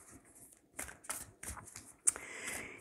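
Stiff angel and ancestor oracle cards are shuffled by hand, giving a string of close, crisp riffling swishes and taps, several short bursts then a longer rustle, fairly quiet.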